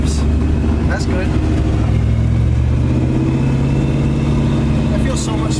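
An LS-swapped Volvo 240 drives along with its V8 engine droning loud and steady up close, the revs rising slightly, while voices talk over it.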